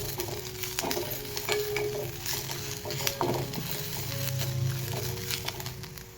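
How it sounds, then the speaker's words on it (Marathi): Ginger, garlic and cumin roast in a pan for a green pavta bean curry masala, with a steady close sizzle broken by repeated scraping stirs throughout. "त्याच्यामध्ये आपण आलं आणि लसूण पण टाकून घेऊया याच्यात, म्हणजे चांगले आपलं ते पण भाजून येतील."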